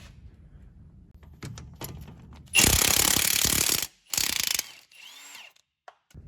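A hand ratchet loosening a bolt near the brakes on a car, several rapid clicking bursts of ratcheting, loud and close, separated by quieter handling noise.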